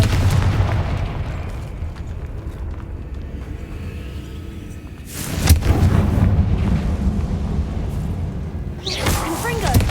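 A Confringo fire spell exploding in Hogwarts Legacy, a heavy booming burst that bursts out mid-clip over continuous game ambience, followed by a second whooshing blast near the end.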